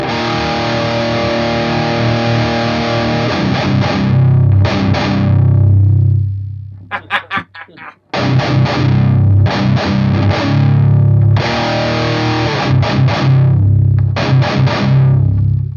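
Heavily distorted electric guitar through a ZUTA GBG120 120-watt tube amp on its extra gain stage, loud chugging riffs with a brief gated pause of staccato hits midway, played alone.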